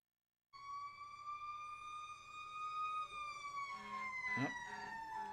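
A fire engine siren from the video game WWE Day of Reckoning 2 starts abruptly and holds a long, slowly falling wail, with a brief noisy burst near the end.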